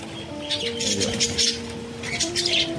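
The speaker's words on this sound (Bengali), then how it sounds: "এই যে সব পাখি খেতে নেবে গেছে, এও খেতে নেবে গেছে যেহেতু বাচ্চা আছে" Pet zebra finches and budgerigars chirp and tweet steadily in an aviary while they feed on a biscuit and egg-powder mix, with overlapping close calls and soft whistles throughout.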